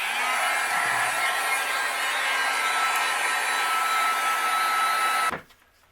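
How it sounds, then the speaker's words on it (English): A heat gun blowing steadily to melt white embossing powder on a card background: a constant loud, close whooshing hum for over five seconds that then cuts off and fades. "Now I'm going to use my heat gun and we will melt this."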